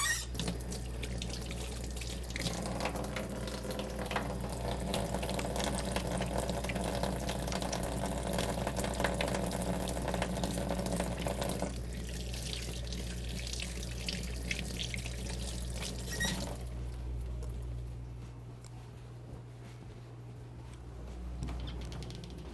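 A kitchen tap runs steadily while dishes are washed up after cooking spicy Chongqing noodles, a continuous close splashing stream with light clinks, which stops near the end and leaves a quieter hiss.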